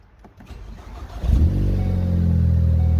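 A Ford Focus ST fitted with an MBRP cat-back exhaust starts up, a short crank followed by the engine catching and settling into a loud, steady idle rumble close by.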